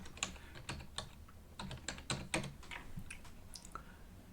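Quiet, steady keystrokes on a computer keyboard as a command is typed into a desktop terminal, a run of distinct clicks spaced irregularly with no voice present.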